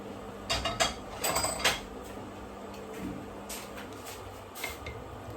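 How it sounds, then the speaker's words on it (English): Beef is tipped from a pan straight into a slow cooker, with a cluster of close metallic clanks and scrapes of cookware, followed by quieter handling clicks. "I'm just going to tip this just straight in the slow cooker."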